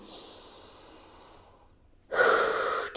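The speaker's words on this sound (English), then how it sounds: "Inhale." A sharp breath drawn in during a Pilates exercise, a soft steady airy hiss that fades, then a louder, fuller rush of breath near the end, close to the listener.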